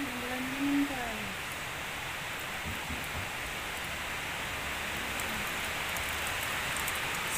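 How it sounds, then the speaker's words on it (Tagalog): Heavy morning rain pours down in the Philippines as a dense, steady hiss of drops that fills the whole stretch, with a voice heard briefly near the start. "umulan na naman guys ang lakas ng ulan."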